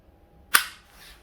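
A single crisp, sharp click from the trigger break of an EMG Hudson H9 pistol, close up and isolated in near silence, with a faint softer tail after it.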